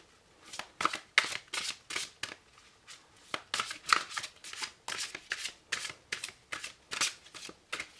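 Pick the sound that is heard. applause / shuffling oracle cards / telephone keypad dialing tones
shuffling oracle cards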